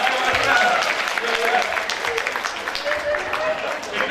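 Clapping fills the room for three participants on stage, a dense, continuous patter of hands at moderate loudness with voices mixed in underneath.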